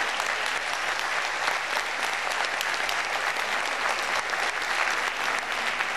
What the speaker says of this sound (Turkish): size bir alkış olsun efendim